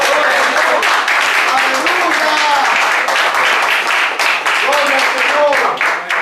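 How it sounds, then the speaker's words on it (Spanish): A congregation at a sermon applauds, a loud, sustained burst of many hands clapping that fills the room, with voices calling out and speaking over it. "Otro aplauso a Cristo."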